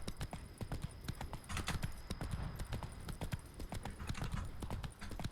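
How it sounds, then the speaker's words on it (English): A horse's hooves gallop in The Witcher 3, with rapid, rhythmic clip-clop beats that stay steady and close throughout, and a faint whinny-like tone underneath. "Whoa there, Roach."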